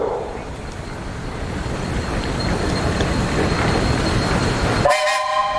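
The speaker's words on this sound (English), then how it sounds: "Beth, you have a whistle." A steam engine whistle at a threshers' steam show sounds as a long, steady, loud blast that holds for about five seconds, then cuts off sharply into a brief tonal ring.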